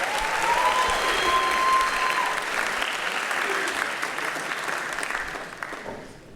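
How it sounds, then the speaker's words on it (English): A jazz night audience claps for its soloists in a sustained, dense burst that fades gradually toward the end, with a voice briefly heard near the start. "Give them another round of applause."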